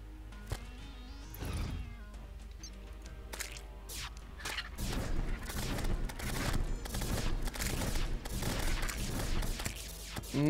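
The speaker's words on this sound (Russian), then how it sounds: "Это значит, что летучий голландец здесь где-то. Если пушки слышны." Cannon fire from the Flying Dutchman in the game Terraria comes as a dense volley of sharp booms and cracks, first sparse, then a rapid, loud barrage layered over game music.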